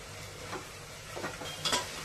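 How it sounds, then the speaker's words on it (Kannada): Green masala fries in oil in a pan for biryani, giving a soft sizzle broken by a few scraping stirs of a spoon against the pan, close and fairly quiet, with no voices. "ಲೈಟಾಗಿ ಹಂಗೆ ಫ್ರೈ ಮಾಡ್ತಾ ಎಲ್ಲ ಎಣ್ಣೆ ಬಿಡಬೇಕು"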